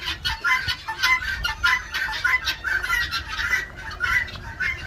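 Several chickens cluck in short, repeated bursts close by, a busy overlapping chatter that continues steadily throughout.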